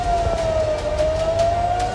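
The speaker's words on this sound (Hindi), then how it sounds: "पहले खतरे का सायरन गूंजा" An air raid warning siren wails with a long, steady sustained tone during a rocket attack in Israel, carrying over a dull rumbling background.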